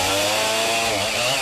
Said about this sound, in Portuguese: Um pouco mais acima, o tropel da mulada é encoberto pelo som da motosserra.